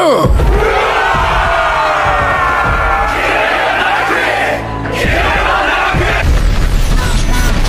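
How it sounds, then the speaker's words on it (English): An anime crowd yells and bellows for a man's execution, a loud roar of many voices that dips briefly in the middle before surging again, with a single voice audible over it. "The people shouted for his death."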